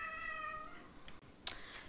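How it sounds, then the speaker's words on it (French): Domestic cat giving a drawn-out, wavering meow that fades out, followed by a short sharp click or tap, close and fairly clear against a quiet room. "J'ai mon chat qui est fou."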